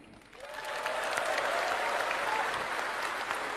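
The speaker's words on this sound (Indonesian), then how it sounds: "Tepuk tangannya kurang semangat." A crowd at a political rally breaks into steady applause that swells quickly and holds at an even level, dense clapping from many hands.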